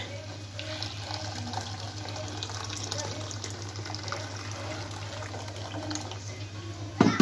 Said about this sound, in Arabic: وننزل بالميه السخنه اهي